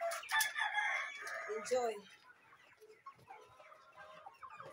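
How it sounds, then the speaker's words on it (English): Sasso chickens clucking with a rooster crowing loudly near the start, the flock's calls continuing more softly afterward while a voice speaks briefly. "Enjoy with the chickens."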